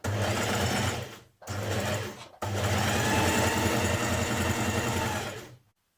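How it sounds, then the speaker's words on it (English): A sewing machine stitches the seam of a jersey dress. Three close, steady runs of rapid stitching are broken by two brief pauses, then the machine stops and the clip ends in near silence. "Back tack at the top and stitch all the way down, matching your notches as you go."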